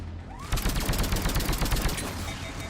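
Rapid automatic turret fire in Mass Effect 3, a loud, dense burst of repeated shots kicking in after a brief quiet start and hammering on steadily to the end.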